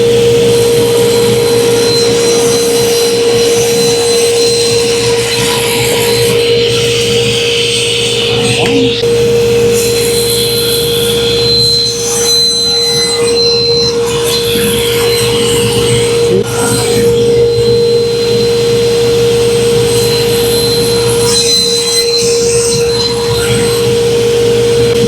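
A table saw fitted with a new blade and a crosscut sled runs steadily through wood, giving a loud, constant motor whine and cutting noise that continues without a break.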